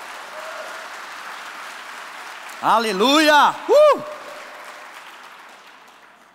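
Soft, distant applause from a church congregation underlies the scene as a single voice rings out loudly in a short exclamation and then a second burst before the clapping slowly fades.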